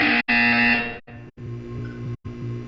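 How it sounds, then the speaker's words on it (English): A loud, harsh electronic buzzer from the video game Portal 2 blares in several bursts separated by brief silences. "When you hear the buzzer, look up at the ceiling."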